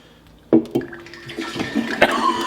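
Remus Repeal Reserve Series V bourbon glugs and splashes from the bottle into a glass, starting with a couple of sharp knocks, then a steady pour with gurgling bursts, close and fairly loud.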